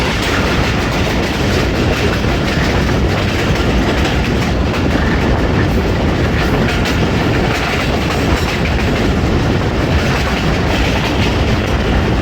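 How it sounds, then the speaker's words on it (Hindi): The Hazara Express roars close by through Gujar Khan railway station without stopping, its wheels clattering continuously over the rails at speed for the whole stretch, loud and unbroken. "थ्रू पास हो रही है 11 हज़ारा एक्सप्रेस"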